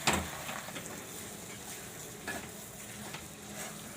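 A semolina and potato mixture is stirred in a pan, giving soft scraping strokes with a light sizzle. A sharper knock opens the clip and a few strokes recur quietly and close.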